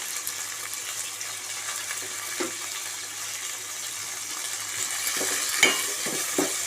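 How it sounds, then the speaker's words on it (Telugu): Curry leaves frying in a pan for a gram flour (besan) dish and being stirred, giving a steady broad hiss with a few soft scraping taps near the end; no voices. "తర్వాత కరివేపాకు వేసుకోవాలి. వేసుకొని కలుపుకోవాలి."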